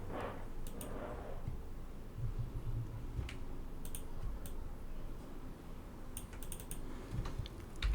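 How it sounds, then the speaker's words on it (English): Keys clatter on a computer keyboard in short, quiet bursts of rapid taps separated by pauses, close by and soft, with no voices. "So just type in instant appointment."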